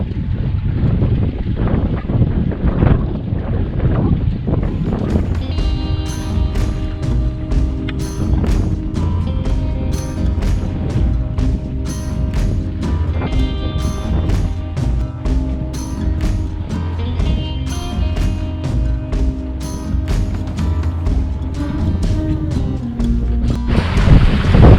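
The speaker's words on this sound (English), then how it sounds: "there's plenty of wind, as you probably hear" Steady wind roaring over an electric sailboat under sail in 15 to 20 knots near slack tide, a continuous loud rush with water sounds and faint rhythmic tapping layered through it, no talk.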